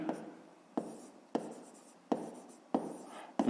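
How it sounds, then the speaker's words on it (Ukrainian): Pen strokes on paper while a maths exercise is written out, five distinct scratchy bursts in a steady rhythm, close and clear, with no voices. "Тобто пишемо"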